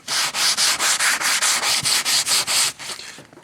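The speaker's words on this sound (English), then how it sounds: "I could fold my paper into the cover, and now I have a curved sanding block" Hand sanding with sandpaper folded around a notebook cover as a curved, flexible block: a dozen quick, even back-and-forth rasping strokes, close and loud, then a softer trailing stroke.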